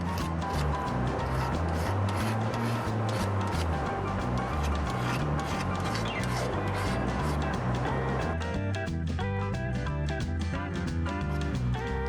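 Old gasket material being scraped off a carburetor manifold on a Lincoln SA 200 welder, heard as a steady, continuous rasping scrape up close over a constant low engine-like hum.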